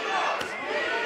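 A boxing arena crowd roars in a steady, dense wash of cheering and shouting, with a brief sharper burst near the middle, all fairly loud and continuous throughout.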